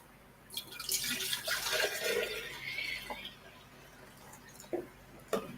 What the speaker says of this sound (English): so all this coconut milk, so I'm going to pour that in